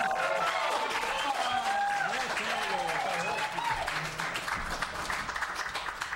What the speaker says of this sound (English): Let me hear that applause.